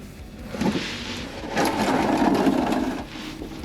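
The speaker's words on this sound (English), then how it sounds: "I've grabbed a sort of a ratchet with a Phillips head on the end" A ratchet with a Phillips head loosens the radiator drain plug on a turbocharged NB Miata MX5, giving two bursts of rapid clicking with a rasping, close-up sound and no talk.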